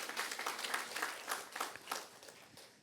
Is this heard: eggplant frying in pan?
no